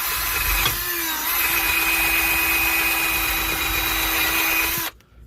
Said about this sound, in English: Take your wheel and your wire grinder. You just want to clean this up.